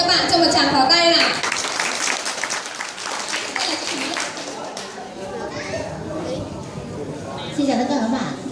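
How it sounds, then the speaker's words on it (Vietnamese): An audience breaks into applause, a dense burst of clapping that tapers into scattered claps and chatter, with voices of children and adults mixed in. "xin các bạn cho một tràng pháo tay nào"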